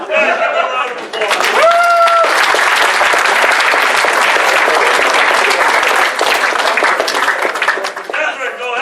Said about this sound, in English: Guys, give a round of applause.